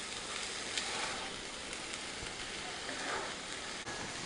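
Onions cook in a pan until translucent, giving a steady, soft sizzle that runs without a break, faint and close.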